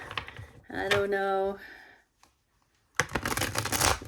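A deck of tarot cards being shuffled up close, a burst of riffling and flicking at the start and another brisk run after a short pause, with a brief spoken or hummed sound in between.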